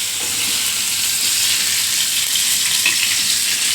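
Pomfret and bombil fish fry loudly in hot oil, a dense, even sizzle that holds close and continuous throughout, with no talking.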